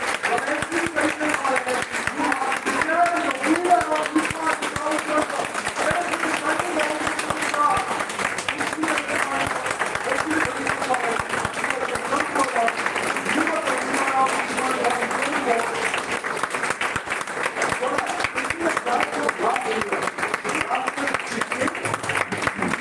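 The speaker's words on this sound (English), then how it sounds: "Let us not use a lot of applause" Sustained audience applause fills an oratory contest validation ceremony, a dense, even patter of many hands clapping that holds steady for the whole stretch.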